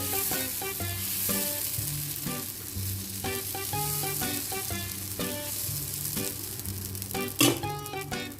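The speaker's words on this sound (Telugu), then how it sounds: "ఒక గెరిటెడు పెసరపిండి తీసుకొని చక్కగా రౌండ్గా తిప్పుకొని" Moong dal batter for Andhra onion pesarattu sizzles on a hot pan, a steady frying hiss beneath a backdrop of rhythmic tonal music, with one sharp clatter near the end and no talking.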